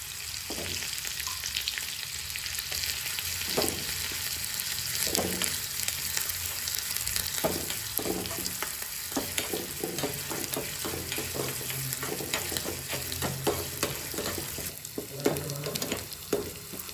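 Cumin seeds and garlic sizzle in hot oil for a tadka to top a roasted tomato Maharashtrian chutney, a steady close frying crackle with occasional stirring scrapes.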